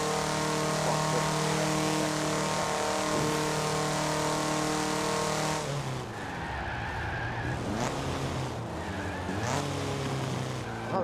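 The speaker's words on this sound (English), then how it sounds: "I like the downshifts. They sound good." A Honda Civic CRX Mugen in Forza Horizon 4 holds a loud, high-revving engine note, then drops through a series of sharp downshifts with revving blips and tire squeal, the engine sound continuous throughout.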